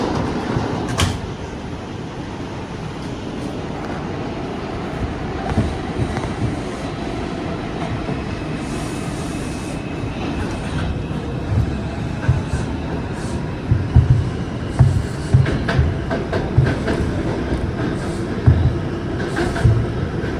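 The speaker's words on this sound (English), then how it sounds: "This is a Bronx-bound 4 local train." An R142 subway car on the Bronx-bound 4 local rumbles between stations, a steady low roar from inside the train broken by rhythmic clicks and clunks over the rail joints that grow louder toward the end.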